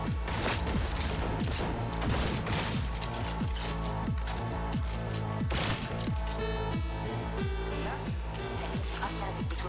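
Rapid gunfire bursts in the video game Cyberpunk 2077, dense and sustained over a music-heavy action soundtrack, with repeated sharp shots and booms throughout and voices calling out amid the fight.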